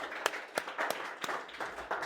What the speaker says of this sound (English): I love a good audience clap